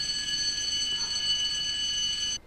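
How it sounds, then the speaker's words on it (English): A fire alarm bell rings steadily and loudly, a continuous metallic clangour filling the whole stretch before cutting off abruptly at the end. "It's the fire alarm!"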